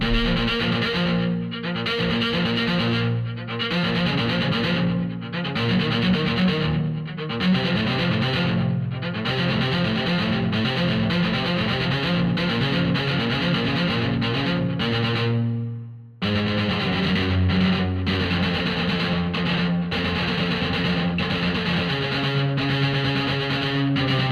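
Apocalyptica cello sample library by Cinesamples played through distortion and effects, a dense, heavy run of bowed and chugging cello notes that is loud and continuous, with one brief break before a fuller passage.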